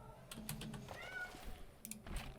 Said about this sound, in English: Don't questioningly meow at me.